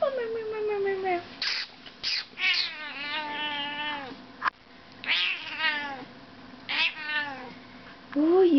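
An old cat meows repeatedly up close, drawn-out and complaining cries with short pauses between, while a person talks quietly to it.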